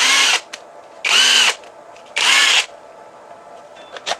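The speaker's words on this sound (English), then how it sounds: "Put it in a impact wrench." A Makita-type 18V LXT battery drives an impact wrench through three loud, close bursts of whirring at steady intervals, each about half a second long, with quiet pauses between.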